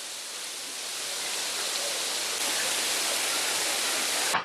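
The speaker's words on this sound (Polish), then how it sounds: "A tutaj mamy wodospad. Taki mały, ale jednak wodospad." A small waterfall in Galicia, Spain, pours in a steady broadband rush of falling water that holds close and even for several seconds, with no voices, before cutting off abruptly at the end.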